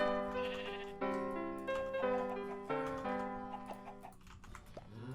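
Minecraft sheep bleating in a game setting, a few wavering cries over a steady tonal music bed, fairly close and moderately loud throughout.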